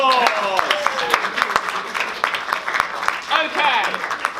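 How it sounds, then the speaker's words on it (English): Audience at a live improv comedy show at an anime and gaming convention claps and cheers after a scene ends, scattered applause mixed with whoops and voices, moderately loud and close. "Give a round of applause!"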